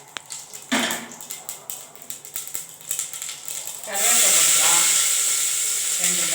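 Cumin and mustard seeds frying in hot oil: scattered light crackles and pops under a voice, then a loud, steady sizzling hiss that swells up and holds.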